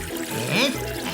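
Water poured onto a plant in a cartoon scene, a short gurgling trickle with a rising swirl, heard briefly against a soft musical background.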